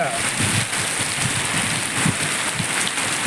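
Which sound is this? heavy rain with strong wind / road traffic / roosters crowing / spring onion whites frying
heavy rain with strong wind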